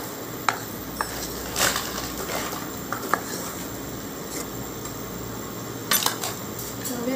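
Mihidana frying lightly in a pan for payesh, with a spatula scraping and clinking against the metal in irregular taps over a steady low sizzle.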